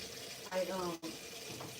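Tap water runs into a pot in a kitchen with a steady, close rush that briefly shifts in pitch as the pot fills, with no speech.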